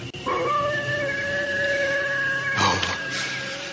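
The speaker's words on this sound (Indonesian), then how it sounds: "Suara lolongan serigala." A wolf howls in a long, sustained tone that holds steady for a few seconds, followed by a second rising cry, alone with no talk, in an eerie drama setting.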